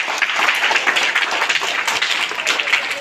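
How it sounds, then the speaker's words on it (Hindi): Applause from students at a school morning assembly, close and brisk with uneven claps throughout. "एक बार रोशन के लिए फिर से तालियों से स्वागत करिए।"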